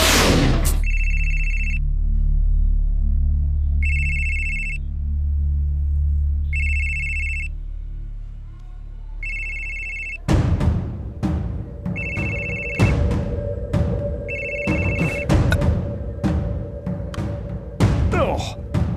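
A telephone rings in repeated double bursts over a quiet backdrop, then keeps ringing as sharp knocks and clatter from an action scene take over.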